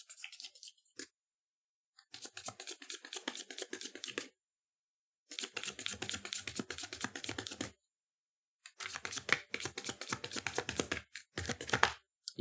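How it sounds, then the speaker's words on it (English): A deck of oracle cards is shuffled close up in several bursts of rapid riffling and flicking clicks, separated by short pauses of silence. "Here we go, loud shuffle, ready to go"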